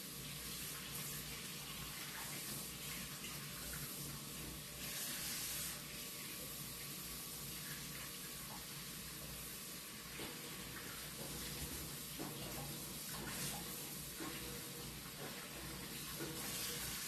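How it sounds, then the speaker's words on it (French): Lukewarm tap water runs into a watering can, used for repotting an indoor plant: a steady, close, continuous rushing splash lasting the whole stretch with slight fluctuations, no talking over it. "Je vais la remplir d'eau tiède."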